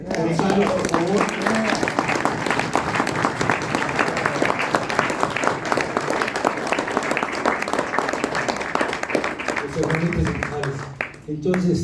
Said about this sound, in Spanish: Un aplauso a los 3 Gonzalo, por favor.